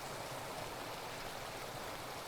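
Fast-flowing stream water rushing steadily downhill, a dense continuous broadband wash with no talk, heard close and fairly faint.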